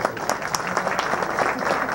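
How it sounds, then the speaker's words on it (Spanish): An audience applauds at a social security week ceremony, with dense, lively clapping sustained throughout and close individual claps standing out. "algo importante, el aplauso de todos"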